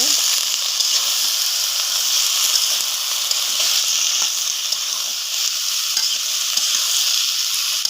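Bitter gourd stir-fried with spices in a pan over a clay stove, giving a loud, continuous hissing sizzle with soft stirring texture throughout and no talk.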